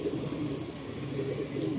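Madrasi and Malwai pigeons coo softly up close, low throaty rolling calls repeating over a faint room background.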